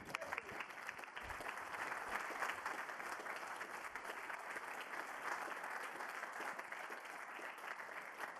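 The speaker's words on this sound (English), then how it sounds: "Well-deserved applause." A hall audience applauds after a talk on a London broadcast centre, dense steady clapping that goes on without a break, heard at some distance and fairly faint.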